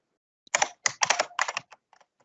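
Quick bursts of keystrokes clatter on a computer keyboard, close and crisp, in uneven clusters trailing off into a few isolated taps.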